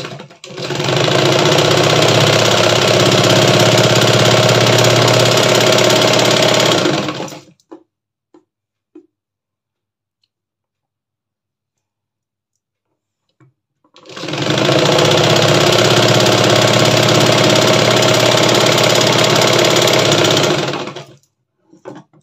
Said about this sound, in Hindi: हम डबल स्टिच कर देबा